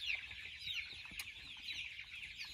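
Pasture-raised chickens cluck softly on a farm. Their calls are quiet, scattered and overlapping against a steady hiss of outdoor background, with no talking.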